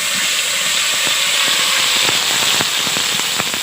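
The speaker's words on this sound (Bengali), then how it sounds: "আর যে এখানে আছে আদা বাটা, রসুন বাটা, পাকা পাকা লঙ্কা বাটা। মশলাটা ভালো করে কষিয়ে নেব।" Ginger, garlic and ripe chili pastes fry in a pan for fish chops, a loud steady sizzle with scattered pops and crackles throughout and no speech.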